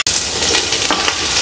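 Chopped onion sizzles steadily and loudly in hot oil with whole biryani spices and fennel seeds in a pan, a continuous crackling fry with light stirring scrapes.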